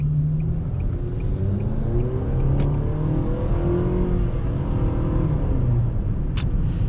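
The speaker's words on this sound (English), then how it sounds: "It does get a little awkward under some acceleration where the transmission kind of doesn't know exactly what it wants to do." A 2020 Nissan Sentra accelerating, its engine a loud, steady droning rumble that rises gradually as the transmission shifts awkwardly, heard from inside the car without talk.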